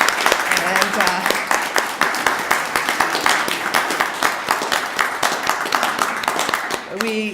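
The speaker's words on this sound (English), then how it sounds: "let's give them a round of applause for joining us" An audience applauds at a Senate Medal presentation honoring a food bank volunteer, dense rapid clapping filling the room continuously, with a voice speaking briefly at the start and end.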